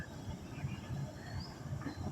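Train rumble from the NJP to Guwahati Vande Bharat Express, a steady low roar with a faint high whine running throughout at moderate level, no talking.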